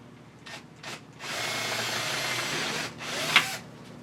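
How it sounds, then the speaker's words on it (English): A power drill whirs steadily for a couple of seconds after a few short bursts, drilling a hole through a wooden board at close range. "I'll just drill a hole in this other one."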